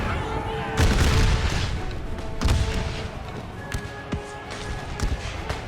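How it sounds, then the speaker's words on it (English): Musket volleys from a unit in a Total War American Civil War battle, distant cracking shots and heavier booms popping irregularly over battlefield ambience. "This unit here is firing at this one."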